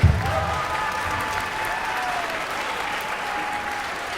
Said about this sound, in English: Can we give Beethoven a big round of applause for being here today?